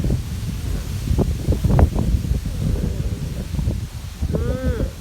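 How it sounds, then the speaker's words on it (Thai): Strong, cold wind buffets the microphone in steady low rumbling gusts, with rustling throughout and a brief animal-like whine near the end. "ลมแรงมากเลย มันหนาวนะลูกนะ"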